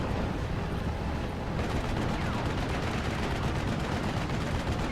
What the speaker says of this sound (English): This aircraft will in fact go down to AA fire.